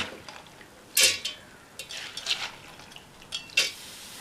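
A few sharp clinks of utensils against a mixer jar as soaked lentils are added, separated by quieter scraping and soft wet shuffling, with no voices.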